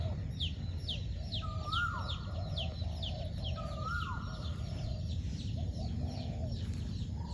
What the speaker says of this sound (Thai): แม่ไก่พาลูกไก่หาออกหากินหลังฝนตก